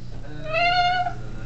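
A human voice imitates a cat's meow, one drawn-out rising and falling mew lasting about half a second, close and fairly soft over a faint background hum.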